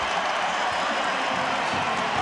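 A basketball crowd at the Bradley Center roars steadily and loudly during a Marquette versus Georgetown college game, a dense wash of cheering and noise without a break.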